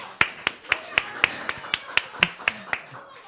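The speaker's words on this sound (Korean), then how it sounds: "우리 친구들 박수 한번." Children in a Sunday school class clap about a dozen times in an even, steady rhythm, sharp and close, with the beats slowing slightly and fading out at the end.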